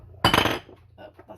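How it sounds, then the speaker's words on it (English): A bottle of garlic and herb olive oil tips over while fries are being prepared, giving one sharp clattering knock of glass on a hard surface, followed by faint small rattles. "that's me spilling my olive oil."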